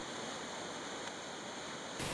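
Waterfall on the Skeena River just upstream of a cabin, where pink salmon try to leap; a steady, dense roar of falling water, even in loudness throughout, with no voices.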